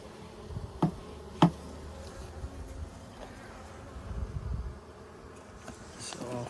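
Honey bees buzz steadily around an active beehive during the addition of a honey super, a close, soft, continuous drone broken early on by two sharp wooden knocks.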